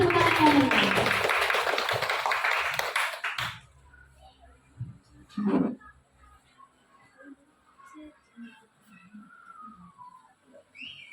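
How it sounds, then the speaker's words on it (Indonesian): Applause from an audience at an elementary school gathering welcoming a teacher, a dense burst of clapping lasting about three seconds before cutting off, leaving a quiet room with a few faint knocks and small sounds. "Kasih tepuk tangan"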